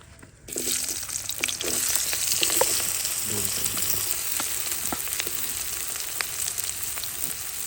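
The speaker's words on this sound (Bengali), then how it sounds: "তেল গরম হয়ে গেছে পেঁয়াজটা দিয়ে দেব" Onion drops into hot oil in a pan while cooking a shrimp and gourd dish, setting off a sudden loud sizzle that stays steady with scattered crackles and a few stirring clinks.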